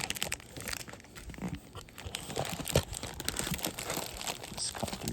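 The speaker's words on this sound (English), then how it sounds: "I just gotta get the knife and cut this too" Cardboard and plastic toy packaging for a Beyblade unboxing being cut open with a knife, a steady close run of crinkling, tearing and crunching with one sharper snap partway through, no voices.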